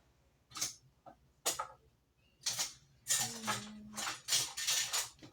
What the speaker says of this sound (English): So because this lid got all gross, I am going to change lids as well.